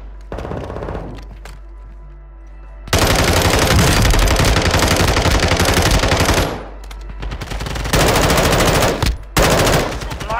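Automatic weapons fire rattles in sustained loud bursts during a Call of Duty match, with brief gaps between volleys and faint game chatter underneath.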